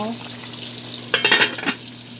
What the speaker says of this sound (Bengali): রুই মাছ ভাজি করলাম একটু ভাজি করতেছি